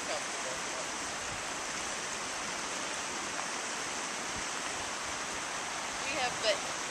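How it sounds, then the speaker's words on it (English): Snowmelt stream rushing along the river in Zion National Park, a steady broadband watery hiss close by, with a few brief brighter splashes near the end. "here's a snow melt running"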